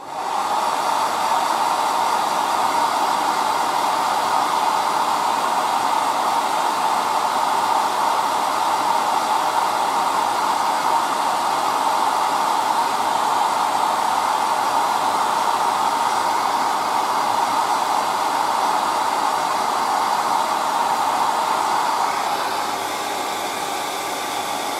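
Air dryer blowing over freshly airbrushed paint on a Predator figure, a steady loud hissing rush that continues unbroken for about twenty-two seconds before easing slightly at the end.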